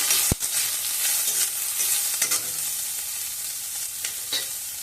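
Chopped onion and slit green chillies sizzle steadily in a pan for a Bengali-style bhindi masala, with one sharp clink near the start and light stirring scrapes over the constant hiss.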